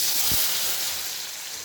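Mustard seeds and lentils hit hot oil for tempering, giving a loud, broad sizzling hiss that starts with a brief low pop and then fades slightly while staying steady.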